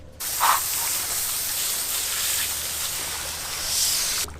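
A hose nozzle sprays water over a slimy grouper before it is filleted, a steady close hiss of spray that runs without break for about four seconds with no voices.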